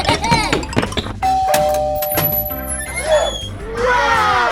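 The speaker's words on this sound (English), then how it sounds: "The bell! Come on, come with me!" A doorbell in a children's animated story chimes a bright, ringing ding-dong close by. It sounds over background music, with voices heard around it.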